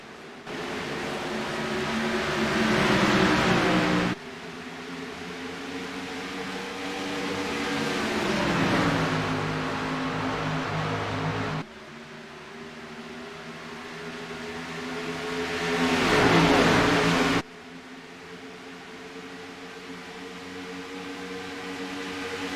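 Race car engines in the iRacing sim at Chicagoland roar and accelerate in several long surging waves, each pass rising then cutting off abruptly, steady and fairly loud with no voices.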